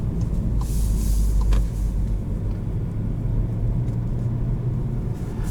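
A 2021 Volkswagen Golf GTI SE with a manual gearbox drives along, its engine and road noise forming a loud, steady low rumble close by. No one speaks.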